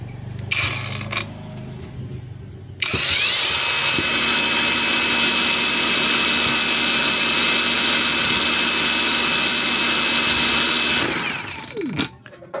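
A Mailtank MK15 cordless brushless angle grinder spins up and runs in its slow polisher mode, a loud, steady high whine holding evenly for about eight seconds before winding down.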